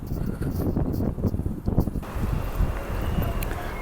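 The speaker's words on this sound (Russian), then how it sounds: "Смотрите, что ветер делает." Strong wind blows outdoors in a residential yard, a gusty roar with rustling and microphone buffeting that rises and falls throughout, with no one speaking.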